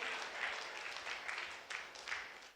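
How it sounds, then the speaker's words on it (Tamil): Church congregation clapping during a Tamil-language Sunday service, a sustained wash of many hands with a few louder bursts throughout, moderately distant and without speech. "கைத்தட்டுங்க பார்க்க."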